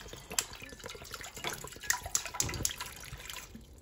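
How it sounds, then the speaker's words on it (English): Water trickles and splashes into a cooking pot for champurrado, faint and close, in a few uneven bursts. "what I'm gonna go ahead and do first is add some water"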